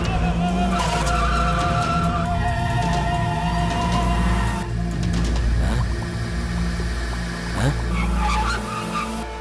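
Tires screech and skid during a car chase in a Hindi-dubbed South Indian action film, with loud, sustained squeals rising and falling over revving engines and no talking.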